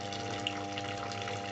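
A continuous stream of water falls steadily under strobe lighting, producing an even, unbroken rushing hiss with a low mechanical hum beneath, close and constant throughout.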